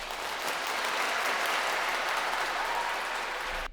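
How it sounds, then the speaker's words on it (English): Crowd applause laid in as a sound effect for an edit, a dense, steady wash of many hands clapping at full loudness for nearly four seconds before cutting off abruptly. "we have the crowd reaction and the applauses"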